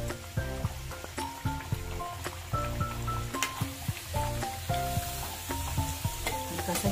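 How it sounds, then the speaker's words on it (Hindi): A green peas puri deep-fries in hot oil with a steady, busy sizzle and bubbling, punctuated by occasional sharper crackles and a few utensil clinks, close and fairly loud with no voices. "नीचे की साइड में भी 1 मिनट तक इसे हम तल लेंगे"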